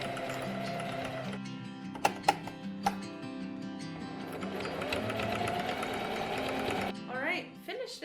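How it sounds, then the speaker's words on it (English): A sewing machine runs a straight stitch along upcycled sweater fabric, its motor whirring in sustained bursts with a few sharp clicks between runs and faint talk alongside. "we are going to do a straight stitch down the length"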